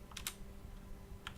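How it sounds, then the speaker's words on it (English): Quiet keystrokes on a computer keyboard while typing commands in a Linux terminal: a few quick clicks at the start, a pause, then another short burst near the end, close and soft. "And now I can type on the keyboard."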